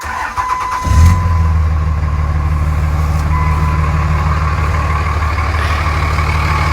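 A 3rd gen Cummins turbo diesel truck with an upgraded exhaust manifold cranks briefly and fires up, then settles into a loud, steady, rumbling idle.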